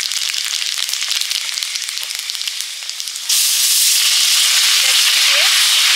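Five-spice seeds hit hot oil with a loud, crackling sizzle for Bengali fish curry, starting as a spattering fry and then jumping into a stronger, steady hiss.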